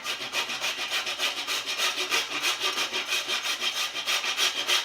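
Whole nutmeg being grated by hand, a close, rhythmic series of quick scraping strokes repeating evenly and fairly softly throughout.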